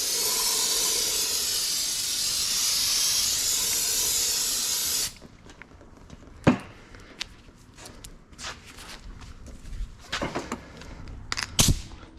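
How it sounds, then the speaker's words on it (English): Brake cleaner sprayed onto a Mini Cooper clutch, a loud continuous aerosol hiss lasting about five seconds, then stopping abruptly, followed by quieter clinks and knocks of tools in a workshop. "I'm gonna spray a little brake clean in there."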